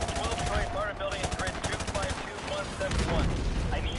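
Gunfire from the Call of Duty Modern Warfare 2 campaign, with loud, dense automatic bursts and rapid shots rattling almost without pause across the whole stretch.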